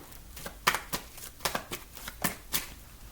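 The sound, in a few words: tarot cards being shuffled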